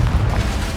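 A Confringo spell blast in the video game Hogwarts Legacy gives a short, heavy boom with a deep rumbling burst, loud and close, lasting under a second.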